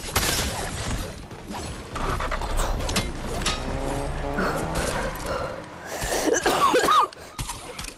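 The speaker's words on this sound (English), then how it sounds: "I'm coughing up blood." A person coughs repeatedly in harsh, rough bursts amid a noisy, cluttered background with other scuffling sounds, fairly close.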